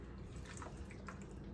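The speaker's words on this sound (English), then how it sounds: "I'm just gonna kind of drain them a little bit." Boiled artichokes drain in a kitchen, water dripping and trickling in a soft, continuous patter of small drops, faint and close, with no voices.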